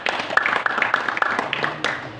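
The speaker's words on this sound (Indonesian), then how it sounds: "Tepuk tangan buat dia." Scattered handclaps from a small congregation during a Holy Communion service held inside a prison, light, uneven and quick, coming alone without talk for a couple of seconds.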